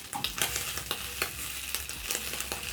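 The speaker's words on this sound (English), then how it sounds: "Then I'm going to check on my bacon." Bacon frying in a pan with a little cooking oil, a close, steady sizzle punctuated by rapid, repeated crackling pops of spattering fat.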